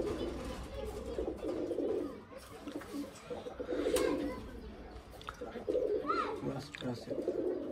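Pigeons coo in soft, repeated throaty phrases amid a busy loft, with people talking nearby over the birds and a muffled background hum.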